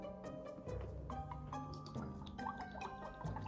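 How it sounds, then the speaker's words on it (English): Water is poured into a Magic Mixies toy cauldron, a close, quiet run of trickling and dripping with small splashes throughout. "Okay, go ahead and pour that in there."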